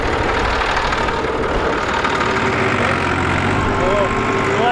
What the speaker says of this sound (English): We're gonna take a quick tractor ride, or maybe drive the tractor